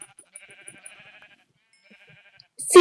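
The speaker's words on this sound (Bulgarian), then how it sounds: "овце! Овце." Sheep in a blocky Minecraft-style survival game bleat in short repeated quavering calls, fairly soft and spaced apart, followed by a sudden loud burst of noise at the very end.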